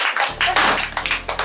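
A small group of people claps close by, a brief burst of quick, uneven hand claps lasting only a moment.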